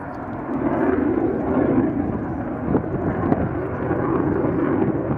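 A MiG-29M OVT fighter jet roars continuously overhead during an aerobatic display, a broad steady engine rumble with wind buffeting at the microphone and a faint announcer voice underneath.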